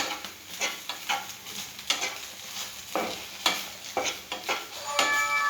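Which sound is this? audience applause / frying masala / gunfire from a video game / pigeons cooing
frying masala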